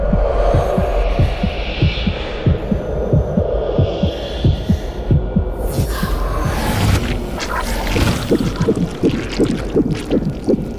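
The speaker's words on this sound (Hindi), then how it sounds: "अचानक से दिल की धड़कन तेज हो गई" A fast heartbeat sound effect throbs steadily and loudly on its own, each beat a deep thump in quick regular rhythm, with a whooshing wash joining in partway through.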